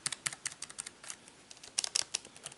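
Rapid typing on the keys of a Fintie keyboard case for an iPad Mini, a close run of light plastic clicks in uneven bursts with a brief pause midway.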